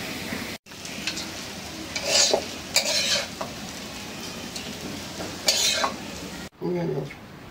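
Fish sizzling and frying in a pan, with stirring and the scrape of a utensil against the pan, and a few louder clatters of metal over a steady crackle.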